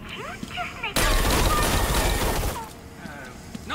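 A dense burst of rapid turret gunfire in the PC game Harley Quinn's Revenge erupts for about a second and a half, loud and sustained, between quieter stretches of game sounds.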